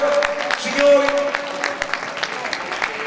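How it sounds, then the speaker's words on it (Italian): Clapping from an audience at an Italian tarantella music event, scattered sharp claps over a crowd murmur, with voices talking throughout. "un applauso per lui, un applauso di cuore, signori"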